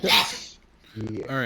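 A single sharp sneeze bursts out at the start, followed after a brief pause by a few short spoken replies close to the mic.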